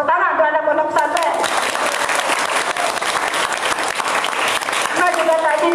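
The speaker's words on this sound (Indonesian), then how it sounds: "Tepuk tangan untuk anak pondok pesantren." Applause from an audience of Islamic boarding school students at a premarital guidance session for teenagers in Central Lombok, with dense, steady clapping that swells through the middle, framed by brief music or voices at the start and end.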